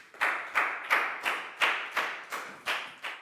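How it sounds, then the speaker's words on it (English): Nine evenly spaced sharp claps ring out in a steady rhythm in a Year 4 classroom, fairly close and clear, with no voices. "High five and a big round of applause for Frau, please, guys."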